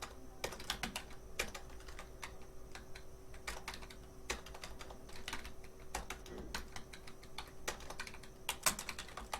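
Keys clatter on a computer keyboard as Urdu text is typed, a quick irregular run of close, crisp taps with short pauses and no voices.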